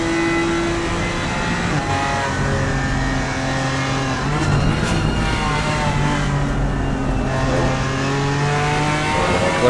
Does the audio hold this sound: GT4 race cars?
yes